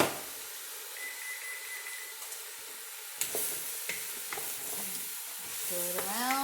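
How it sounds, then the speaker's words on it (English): Tomatoes are stirred into a Moroccan squash and chickpea stew in a pot, with soft scraping and bursts of sizzling steam close by, irregular stirring strokes and occasional brighter clinks, no voices. "Stir it around."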